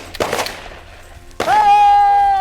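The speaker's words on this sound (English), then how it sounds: "Good shooting, Gary." During an outdoor pheasant hunt, a sharp loud shotgun blast rings out, followed by another crack and a whooping shout from a hunter, with voices around it.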